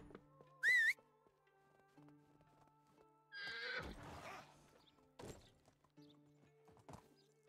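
A horse in the video game Medieval Dynasty gives one short, loud, high whinny, followed by scattered hoof thuds and clip-clops over quiet ambient game sounds.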